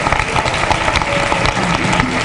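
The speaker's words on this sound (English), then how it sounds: "Let's give them a round of applause." Applause for students at a school district board meeting, dense steady clapping from a room of attendees over about two seconds, with faint murmur beneath.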